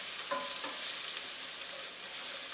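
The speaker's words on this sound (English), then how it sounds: "So let's just get these onions going real good here." Onions sizzle in a hot pan for Mongolian beef, a steady close hiss with a few quick clinks of a utensil near the start and no talking.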